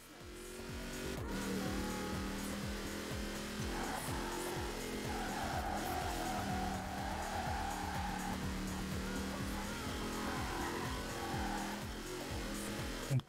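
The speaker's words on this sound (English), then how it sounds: "this MR2 have a powerful motor for stock motor that you just need to mod further" Engine of a stock Toyota MR2 while driving gives a low, even drone with shifting engine tones, faint and continuous throughout.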